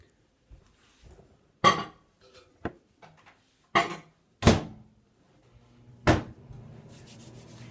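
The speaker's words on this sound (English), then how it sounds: "we're going to take all 3 cups and we're going to pop them in the microwave" Three mugs set into a microwave in a handful of separate close knocks and clinks of ceramic on hard surface, spaced apart with quiet gaps between them, no talking.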